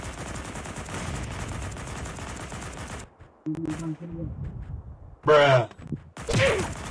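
Gunfire in a shooter video game sounds in sharp bursts: a dense rattling stretch, then a pause, then a few loud isolated shots and impacts, with brief voices in between.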